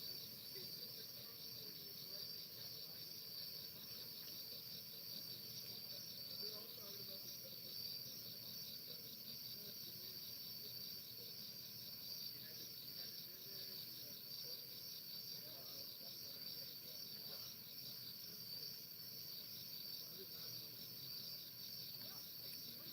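Crickets chirping at night in a rural outdoor setting, a dense continuous high trill sustained throughout, steady and moderately loud, with faint background rustle and no speech.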